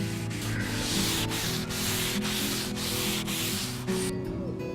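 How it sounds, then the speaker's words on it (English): Steady rhythmic rubbing of P320 abrasive paper by hand over the painted wood of a factory-finished window, back-and-forth strokes repeating about every half second, close and continuous. "using a fine grade abrasive paper around P320 grade, like this one, lightly wipe over the paintwork"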